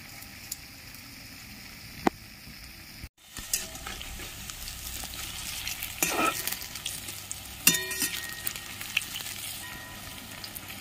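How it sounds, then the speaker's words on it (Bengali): Malabar spinach fritters fry in oil, a steady hiss and crackle that grows fuller partway through, with occasional sharp clinks of a utensil against the pan. "বড়াগুলো এক পিঠ লাল হয়ে গেছে, আর এক পিঠ লাল করে ভেজে নেব।"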